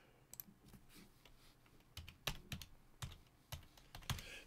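Fingers type a password on a computer keyboard, a quiet, irregular run of close key clicks and taps with short pauses between bursts, no voices.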